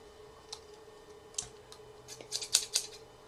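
Scissors snip through packing tape on a Loot Crate box, giving a few faint clicks at first and then a quick cluster of sharp, close cutting sounds.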